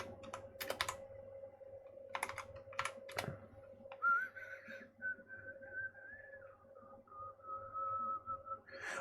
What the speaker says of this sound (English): Oh, I've got a mini keyboard.